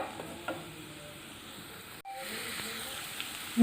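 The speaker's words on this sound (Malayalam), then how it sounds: "സവാള നന്നായി വഴന്ന് വരട്ടെ." Onions fry in oil with salt for Kerala-style chicken mappas, giving a soft, steady sizzle with light stirring sounds. The sizzle breaks off briefly partway through, then resumes.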